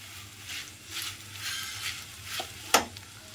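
Flattened rice being stirred through hot oil with cumin and dried chilies, soft scraping sweeps and light sizzle, ending in one sharp utensil clack.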